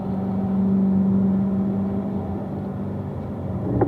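A racing car on a track holds a steady mid-pitched engine drone with a gear upshift to fourth, heard from inside the car, moderately loud and even with no talk.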